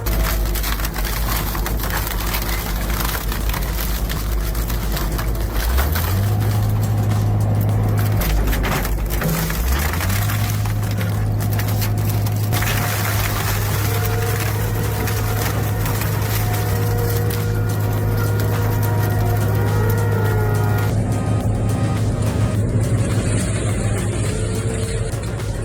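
A Cranbow shredding machine with 134 teeth and 600 horsepower runs with a heavy, constant engine drone. Crushing and splintering wood crackles over it throughout, and the pitch of the engine shifts a few times.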